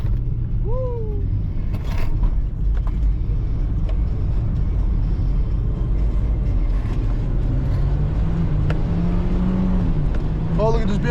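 A BMW drifting nearby, with a steady engine roar and rumbling drone under loud background noise, a rising engine note near the end, and occasional voices.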